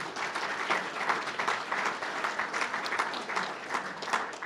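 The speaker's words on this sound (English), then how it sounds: "Let's give them a round of applause." An audience at a state-of-the-budget presentation gives a steady, dense round of applause, many hands clapping together at an even level throughout with no voices over it.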